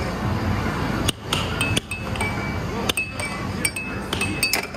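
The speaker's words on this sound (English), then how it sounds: "So I guess we're gonna play some air hockey." Air hockey puck and mallets clacking at a table, several sharp clacks at irregular intervals over a steady noisy background.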